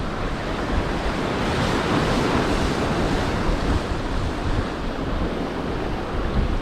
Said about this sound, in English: That surf's in, that's for sure.